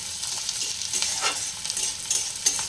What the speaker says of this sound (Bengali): পেঁয়াজটাকে বেশ লাল লাল করে ভেজে নেবে?